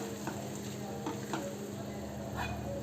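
Spices for kaju masala (cashew curry) sautéing in a pan over a medium gas flame, a steady close sizzle with a few soft scraping stirs across it, no voices.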